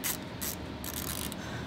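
A ratchet fitted with a 7mm socket works a factory worm clamp on a 2022 Subaru WRX charge pipe, giving a few quick, close clicking bursts over steady low background noise.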